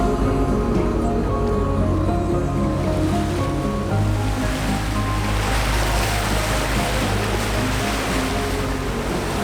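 A 55ft carbon racer-cruiser yacht sailing at night in a light breeze, with a steady, loud rush of water and waves along the hull and some wind noise, continuous throughout with no talk.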